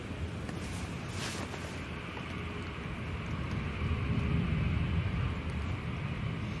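A TUI airliner on final approach at windy Manchester Airport, its broad engine roar steady and fairly distant, swelling slightly as it nears, with gusty wind buffeting the microphone throughout.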